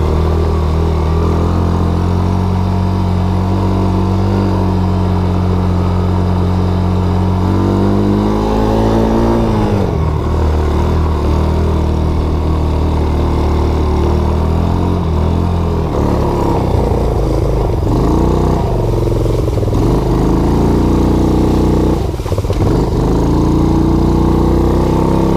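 Small Baja Wilderness 90 mini bike engine running steadily while ridden, converted from automatic to a hand-shifted 3-speed semi-automatic; a loud, close buzzing drone whose pitch rises and falls with throttle and gear changes, no talking.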